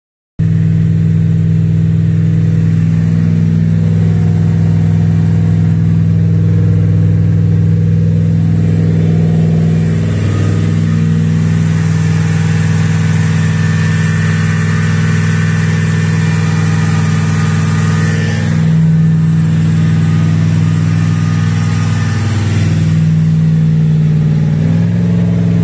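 A Corvette L48 V8 engine runs steadily and loudly at a fast idle during camshaft break-in, its deep rumble holding constant with slight shifts in pitch.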